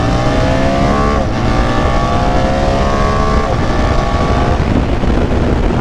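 Loud, constant BMW R1300 GS motorcycle engine drone while riding, with shifting engine pitch under heavy wind rush.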